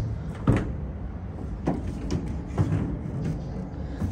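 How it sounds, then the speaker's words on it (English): The door of a 2023 Ford Transit van opens in a body shop after unibody repair, a series of dull knocks and latch clunks spaced over a few seconds, close by and moderately quiet. "So we open this door right here."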